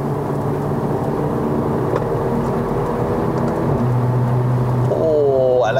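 A 2015 Mercedes-Benz A45 AMG accelerates on a Malaysian road, its engine and exhaust giving a loud, steady drone heard from inside the cabin, with a rising whine near the end.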